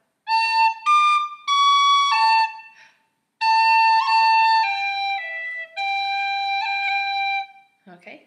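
Tin whistle plays the opening phrase of the Irish tune The Hag With The Money, Cailleach an Airgid, a run of clear sustained and ornamented notes with brief breath gaps, close and alone, ending in a faint soft sound.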